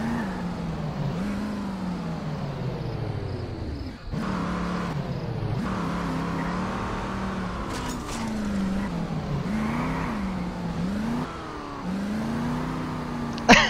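A clown car in a driving video game, its engine droning and revving continuously with rising and falling pitch and a short tire squeal near the end.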